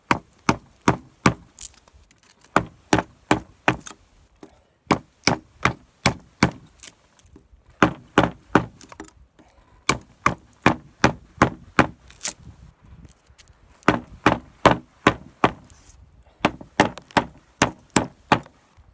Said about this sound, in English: Alright, we'll try a bit of baton chopping as well.